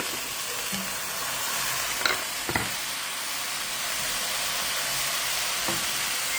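Close, steady sizzle of bitter gourd frying in a pan as tomatoes go in, a continuous hiss with a couple of brief knocks of a spoon against the pan.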